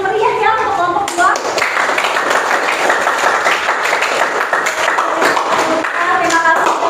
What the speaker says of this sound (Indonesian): Kita kasih tepuk tangan yang meriah ya untuk kelompok 2.